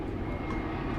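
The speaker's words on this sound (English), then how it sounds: "I don't know if you guys can hear some airplanes" Airplanes fly over an outdoor pickleball venue at the Texas Open near Dallas, a steady low engine rumble droning through the short moment with no clear voices.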